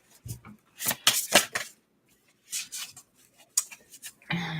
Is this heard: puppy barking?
no